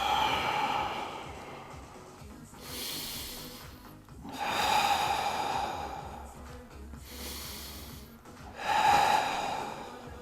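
Slow, heavy breaths recur in four long waves, each a drawn-out exhale during an abdominal plank exercise, close and fairly quiet, with no talking.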